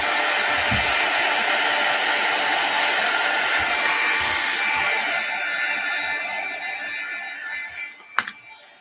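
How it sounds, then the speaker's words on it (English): A heat gun blows a loud, steady airy roar while drying a wet craft card, fading slightly toward the end before a brief clunk. "So I'm going to dry this with my heat gun."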